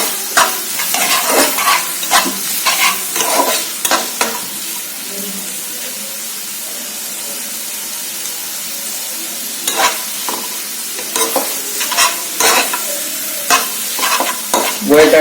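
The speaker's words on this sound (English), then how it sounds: "We have to cook the onions very well on a medium flame" Onions sizzle in a pan over a medium flame for Amritsari chole, with a spoon scraping and stirring in loud, irregular bursts over a constant hiss of frying.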